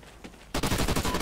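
After a brief quiet moment, rapid automatic gunfire in Call of Duty Ghosts bursts in close and loud, a steady stream of shots to the end.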